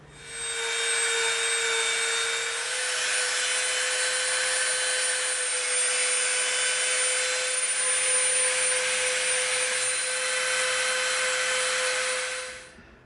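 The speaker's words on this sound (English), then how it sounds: "we're going to get the Dremel out and we're going to soften these edges a little bit" Dremel rotary tool grinding down the edges of EVA foam, a loud, steady high-pitched whine that runs almost unbroken for about twelve seconds, close up with no talking.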